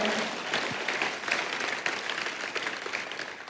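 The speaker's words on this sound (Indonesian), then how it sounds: "kita kasih tepuk tangannya yang paling meriah buat Tuhan kita" Church congregation applauding at a sermon, a lively, sustained crowd clapping that fades slightly toward the end.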